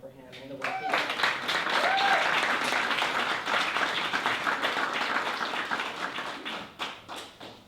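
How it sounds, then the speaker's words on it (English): An audience at a talk or poetry reading applauds a speaker, a dense, lively patter of clapping that swells quickly and carries on for several seconds with some voices underneath. "I would just like us to have another round of applause for him"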